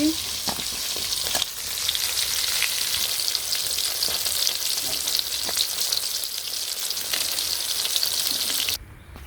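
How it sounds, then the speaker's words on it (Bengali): Lentil fritters deep-frying in a pan of hot oil give a loud, continuous close sizzle, with occasional sharp crackles and taps throughout. "বড়া ভাজছি"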